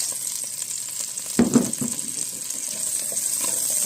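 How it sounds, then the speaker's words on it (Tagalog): Onions frying in melted butter for Filipino pork afritada, a soft continuous sizzle with a brief louder burst of crackle and stirring when they hit the pan, close and without speech. "Mag-melt tayo ng butter. Maglagay ng sibuyas."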